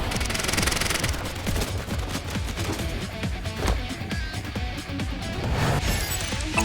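Rapid bursts of automatic gunfire from the video game AI: The Somnium Files, loud and dense, crackling continuously with sharp crashes mixed in and no talk over it.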